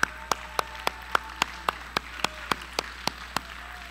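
A church congregation claps hands in praise in a steady beat, about three per second, sharp and evenly spaced over a low background hum.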